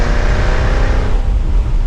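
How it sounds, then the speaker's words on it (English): The supercharged V8 of a 2024 Jaguar F-Type R75 AWD convertible growls and revs loudly up close, a deep throaty rumble sustained for a couple of seconds. "this thing is pretty darn quick with the supercharged V8. Sounds pretty awesome."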